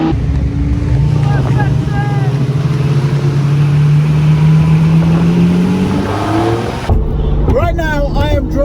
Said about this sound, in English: Right now I am driving Ed Boleyn's Murcielago SV.